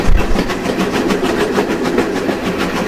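A heritage steam locomotive on the West Somerset Railway climbs a gentle grade, its steady rhythmic chuffing loud and close over the continuous rumble and clatter of the carriages.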